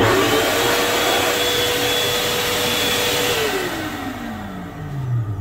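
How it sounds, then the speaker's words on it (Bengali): A hand dryer in a Vande Bharat Express train toilet blows with a steady loud roar, a faint tone sliding downward as the airflow eases near the end, no voices. "এখানে একটা হ্যান্ড ড্রায়ার রয়েছে"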